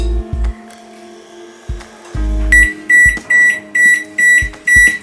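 An oven signals that it has finished preheating for pizza muffins with a series of six or seven short, loud, evenly spaced electronic beeps, following a few low thuds and hums.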